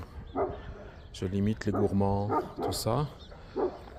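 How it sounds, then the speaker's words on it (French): A dog barks several times nearby, short yapping barks mixed with whiny tones, while a person speaks over it. "Désolé pour le chien, il sait faire que ça."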